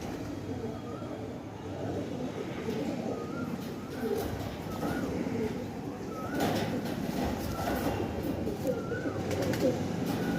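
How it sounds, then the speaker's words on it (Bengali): Madrasi pigeons cooing in a loft, soft repeated low coos at fairly regular intervals over a background of ambient rumble and faint distant noise. "দারুণ পায়রা, দারুণ পায়রা"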